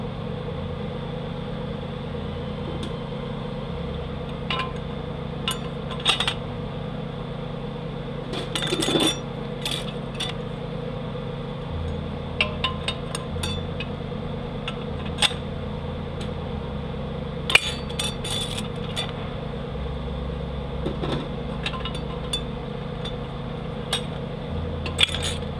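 Steel clutch plates for a 42RLE transmission rebuild being stacked, with scattered light metallic clinks and taps over a constant low engine-like hum in a workshop.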